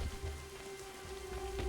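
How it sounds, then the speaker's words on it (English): Steady rain falls in an outdoor scene in the video game Assassin's Creed 3 Remastered, an even, moderately loud wash of drops with a low background hum and no voices. "And it's raining."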